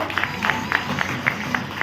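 An audience at a ceremony honouring a revered guru claps in a quick, fairly even rhythm, a soft, moderately distant patter of hands with faint crowd murmur underneath.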